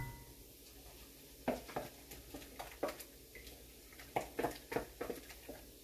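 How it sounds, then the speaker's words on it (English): A spoon stirs coconut yogurt with lemon juice in a bowl, giving soft, quiet scrapes and light clicks in irregular bursts, with the clearest strokes clustered near the middle and the end. "coconut yogurt, and I'm going to mix all that together"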